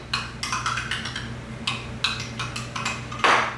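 A spoon stirs sweetener into a drink, giving a run of light, irregular clinks and taps against the cup, with one sharper, louder clink near the end over a steady low hum.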